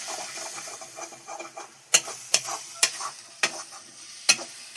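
Masala simmering in a kadai after a splash of water, a soft continuous sizzle and bubbling with a few sharp metallic knocks of a spoon against the pan, no talk.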